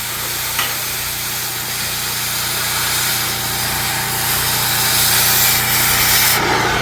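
An ironworker's oxygen cutting torch burns through a steel anchor, giving a steady loud hissing roar with a low hum beneath, a brief crackle near the start, and a brighter surge of blasting hiss toward the end.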